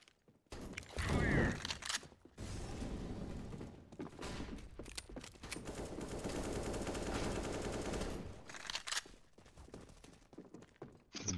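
A sustained burst of automatic rifle fire sprayed in the shooter game CS:GO, rapid close shots running for several seconds after a few single bangs, with a player talking around them.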